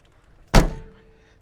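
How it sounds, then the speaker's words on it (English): A single solid thunk as the hatch of a 1960 Standard Vanguard Vignale is pulled shut and latches, close and fairly loud, with a short ringing decay and otherwise quiet surroundings. "Just knock these levers down to make sure it's locked in, and we'll close the hatch."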